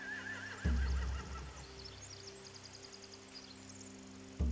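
A horse whinnies in a long, wavering neigh in the video game The Walking Dead: The Final Season, then quieter snorts and clip-clopping under a low ambient game hum, with a heavy thud near the end.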